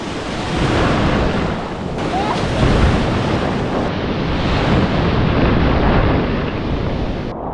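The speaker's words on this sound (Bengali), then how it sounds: "ঢেউ আছে" Sea waves roll and crash on the beach at Cox's Bazar as a loud, continuous surf roar, heavily buffeted by wind rumbling across the microphone.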